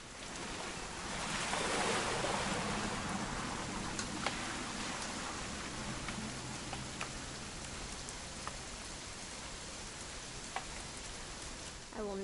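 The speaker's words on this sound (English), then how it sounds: "It's gonna rain the whole weekend, isn't it?" Rain falls steadily in a video game, giving a soft, continuous hiss with scattered drop ticks that stays moderately quiet throughout, with faint low sounds beneath.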